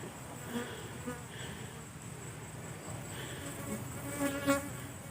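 Small wild bees hover and fly around a newly built nest near water, their faint buzzing drone continuous in the background with a few brief closer passes.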